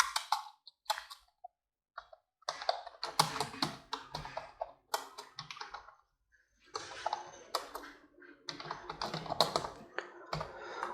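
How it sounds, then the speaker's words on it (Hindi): Close, quiet clicking of a computer keyboard as a school name is typed, with bursts of rapid keystrokes separated by short pauses. "उस कॉलेज का नाम आप यहाँ पर टाइप कर देंगे"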